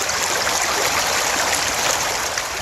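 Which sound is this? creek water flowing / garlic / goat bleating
creek water flowing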